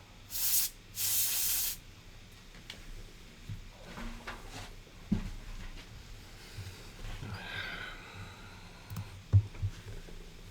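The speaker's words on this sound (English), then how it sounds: "a little bit of compressed air to blow off the excess alcohol" Compressed air blasts onto a circuit board to clear off excess alcohol: two loud, close hissing bursts, followed by quieter handling taps and faint rustles.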